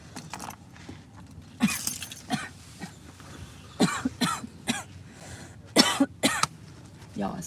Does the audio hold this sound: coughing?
yes